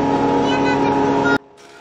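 A power tool cuts frame rebates into the wood of a lightweight eight-frame beehive. It is a loud, steady, close whine that cuts off abruptly, leaving a faint lower tail.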